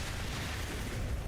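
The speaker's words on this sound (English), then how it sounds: "Quite a bad explosion, though." A dense, rumbling explosion from the Dragon Quest video game fills the whole clip as continuous broadband roar, steady and fairly loud, with no speech over it.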